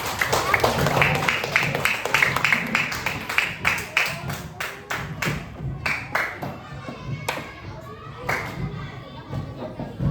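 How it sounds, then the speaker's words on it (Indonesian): A small group of participants in a coding teaching session claps, starting as a dense burst and thinning into scattered, irregular claps, with voices chattering underneath. "tepuk tangan untuk kita semuanya"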